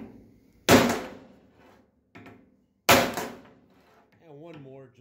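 Two sharp, loud metallic hammer strikes on a Temco hammer crimping tool, crimping welding cable, ring out a couple of seconds apart, with someone speaking briefly afterward.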